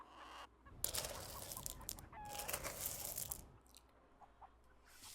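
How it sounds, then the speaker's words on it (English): Backyard hens clucking in a steady, close chorus of short calls, with a few rising squawks standing out in the middle before the flock settles back to softer murmuring. "Look at my beautiful hens."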